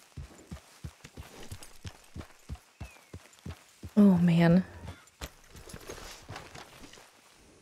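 A horse's hooves clop in a steady walking rhythm in Red Dead Redemption 2, close and distinct, with a brief loud vocal outburst partway through and someone speaking over it.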